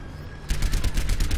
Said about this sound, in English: I thought there was more recoil on the gun.